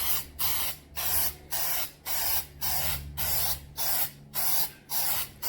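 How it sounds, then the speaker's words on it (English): Spray adhesive sprayed onto a sheet in short, even hissing bursts, about ten in a steady rhythm, close and fairly loud over a low background hum. "I'm going to spray the sheet down instead"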